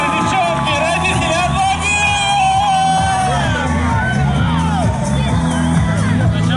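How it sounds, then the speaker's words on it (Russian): A cheering crowd at a football final whoops, yells and shouts loudly over continuous chanting and noisy voices, with a dense, lively roar throughout. "аплодируем!"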